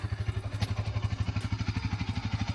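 Motorcycle engine idling in neutral just after starting, a close, steady, rapid thumping putter with an even rhythm and no other sounds.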